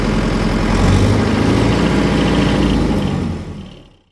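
A Mahindra 585 DI Yuvo Tech Plus 2WD Special Edition tractor engine runs at a steady, loud, close idle with a deep low rumble, then cuts off and fades away over the last second.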